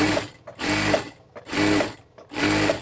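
A sewing machine runs in four bursts while stitching a double seam on a kameez, each run lasting about half a second with brief pauses between, close and fairly loud.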